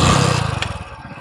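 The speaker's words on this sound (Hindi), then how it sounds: "तो पहले तो हम हमारी बाइक को स्टार्ट कर लेंगे" A Hero Splendor Plus motorcycle engine catches and idles with a steady, rapid single-cylinder putter, loud and close, the beat gradually slowing and settling.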